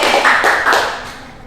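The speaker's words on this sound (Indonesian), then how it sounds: "Tepuk tangan dong juga buat Mbak Putri" A short burst of applause in a classroom for a student named Putri: a brief patter of clapping hands that quickly fades away.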